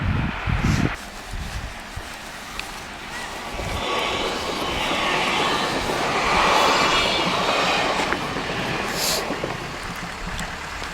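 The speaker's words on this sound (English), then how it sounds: "That is a long and loud train." A long, loud train passes close by with a continuous roaring rumble and rushing wheel noise that swells in the middle and stays heavy to the end, with no talk over it.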